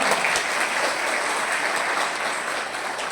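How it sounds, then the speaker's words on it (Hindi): A hall full of people at a nationalist organisation's gathering break into hearty applause, a thick steady roar of clapping that stays loud and unbroken, easing slightly toward the end. "जोरदार तालियां हो जाए एक बार"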